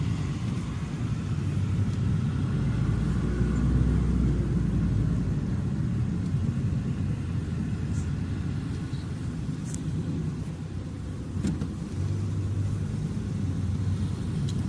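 Steady road traffic rumble heard from inside a taxi driving through Kuwait, a continuous low engine and tyre drone with passing vehicles, a Dodge among them, and no talk.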